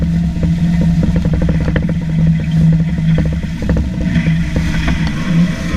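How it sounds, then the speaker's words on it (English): A 4WD stuck on its diffs on a track, engine revving steadily while the wheels spin in water, giving a continuous droning rumble with rapid splashing clatter, close and loud with no talk. "You can even hear the revs saw there as the car comes to a rest on its diffs and the wheels just spin in the water"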